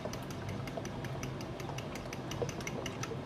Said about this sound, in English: let's keep whisking until you have this light eggish color